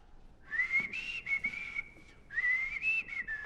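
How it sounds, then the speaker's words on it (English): Someone whistles two long, wavering melodic phrases up close, separated by a short pause, over a faint quiet background. "Who dare whistle that way in my palace?"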